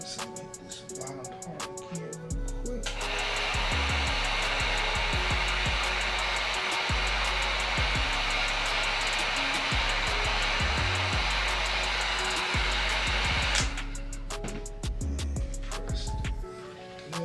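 A heat gun blows hot air onto a Gunskins vinyl wrap on a Glock 19 grip, a steady whooshing hum running about eleven seconds at close range, with handling clicks before and after.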